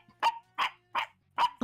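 A person imitates a dog barking, voicing four evenly spaced, sharp woofs close to the microphone with short silences between them.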